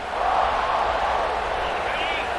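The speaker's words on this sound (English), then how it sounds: "Listen to the crowd energy here in the early going." A stadium crowd roars in a College Football 26 video game matchup between Ohio State and Penn State, a dense, steady wash of cheering that stays loud and even for the whole moment.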